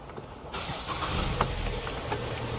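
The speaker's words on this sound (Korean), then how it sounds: "시동 걸어보겠습니다" A Hyundai Sonata YF running on LPG, showing about 199,282 km, cranks and fires up about half a second in, then settles into a steady, close idle.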